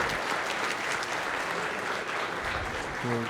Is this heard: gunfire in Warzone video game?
no